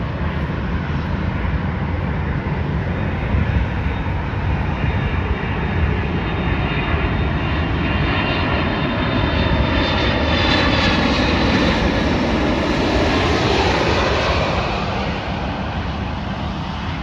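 A Delta Airlines Boeing 767 jet at Dallas Love Field roars steadily and loudly for the whole stretch, a dense broadband engine rumble that swells slightly near the middle as it passes.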